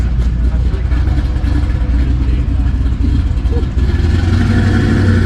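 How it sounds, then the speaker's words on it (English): A Nissan R32 Skyline GTR engine revs loudly and steadily at a local car meet, a deep continuous roar with people talking nearby. "Look at the engine in this thing. It goes."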